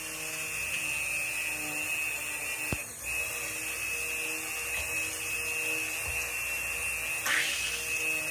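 A stick blender mixes lilac-scented cold process soap batter with a steady, high-pitched motor whine, close and continuous, with a brief bump near the middle and a louder burst near the end.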